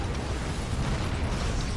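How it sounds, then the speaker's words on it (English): Explosions in the video game Prototype 2, heard as a loud, dense rumbling blast that holds steady throughout with heavy low-end roar and no clear separate impacts. "Epic Power Rangers explosion. Two of them, nice."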